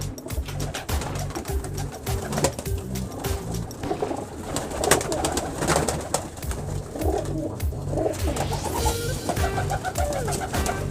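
Pigeons of several breeds, including Golden, Teddy and Rampuri breeder pairs, coo continuously in a loft, with repeated low rolling calls from several birds close by over a busy background of fluttering and other bird sounds.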